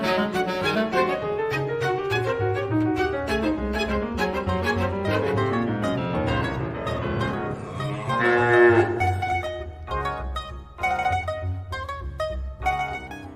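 Busy orchestral music with a low, sliding lowing sound imitating a cow's moo partway through, surrounded by bright instrumental textures.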